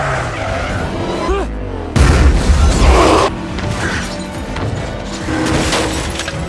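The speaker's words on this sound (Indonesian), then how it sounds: "Those are goddamn cannons!" Heavy armor-piercing cannon fire in a street-racing film action scene, with a loud low boom and crashing impact midway, surrounded by skidding, engine noise and shattering debris in a dense, chaotic mix.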